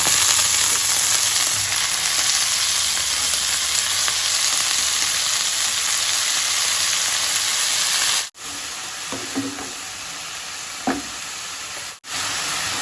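Leafy betho shak greens fry in a hot pan in a home kitchen, a dense, steady sizzle and hiss with a few brief stirring scrapes near the end and no talking.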